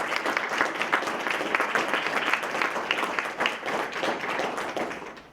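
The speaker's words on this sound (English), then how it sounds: "Can I get a big round of applause for our panelists?" Steady, dense applause from a seated audience at a Nashville community panel discussion on sidewalks, clapping sustained for several seconds and fading slightly at the end.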